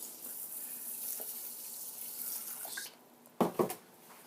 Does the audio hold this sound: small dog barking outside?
no